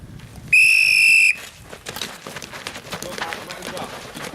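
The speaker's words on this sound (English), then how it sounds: "I'll blow the whistle for the next crowd" Coach blows a loud, shrill whistle once for nearly a second to send off the next group at a ball wall training session, followed by running footsteps and voices in the background.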